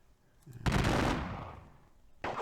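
Massed musket volley in a Battle of Dennewitz strategy game, one loud crackling burst that rolls and fades over about a second, followed by the start of another.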